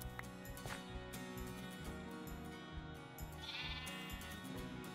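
Sheep bleat repeatedly in Minecraft on a wool farm, several clear, loud game bleats overlapping one after another with little gap between them.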